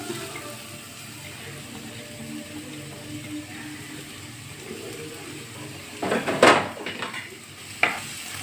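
Finely chopped onions fry in coconut oil with a quiet, steady sizzle, broken near the end by a couple of short clatters from a spoon stirring against the pan.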